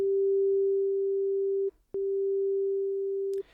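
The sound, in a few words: synth sine wave panning left to right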